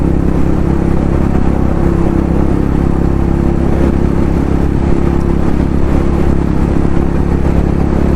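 A motorcycle engine drones loudly and steadily at speed, thick with wind rush and road noise, with no let-up throughout.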